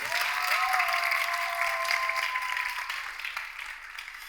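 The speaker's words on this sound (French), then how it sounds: "on peut applaudir très fort, public" A studio audience at a French dating show claps loudly and continuously, with a faint tonal musical line running underneath that fades as the applause slowly tapers off.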